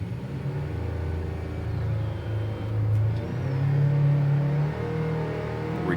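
An offshore racing powerboat, Patriot Offshore Racing's 30-foot Superboat at the APBA World Championships, roars with a steady, heavy engine drone that swells and dips slightly, close and loud throughout with no talk.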